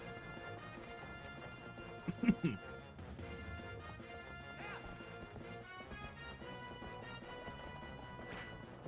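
Horse hooves from the video game The Legend of Zelda: Twilight Princess clatter briefly amid game music, with a short sharp thump and occasional neighs.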